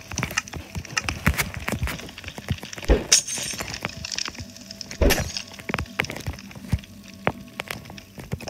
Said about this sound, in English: in the middle, you want to place a polished blackstone pressure plate like this